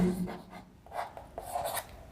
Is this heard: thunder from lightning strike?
no